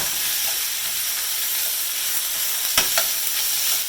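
Onions sautéing in a pan give a steady, close sizzle and hiss, with a few sharp clicks of stirring near the end and no voices.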